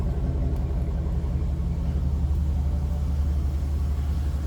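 Steady, deep exhaust rumble from a 2004 Chevrolet SSR with a 5.3 V8, idling close by in an even, unbroken drone with no voices over it.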